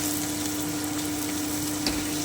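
Tomatoes frying in a pan of oil for an Afghani egg curry give a steady close sizzle, with one brief louder crackle near the end.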